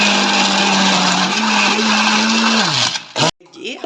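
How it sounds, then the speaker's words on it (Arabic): An electric blender mixing a batter of yogurt and flour whirs steadily and loudly, its motor pitch creeping upward, then cuts off abruptly near the end. "هنحط شويه شويه كده في الخلاط ونضربهم"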